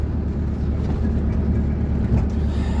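An old car, back on the road after engine repair and still needing valve adjustment, drives along with a steady, loud, low engine rumble and road noise from inside the cabin, with no talk.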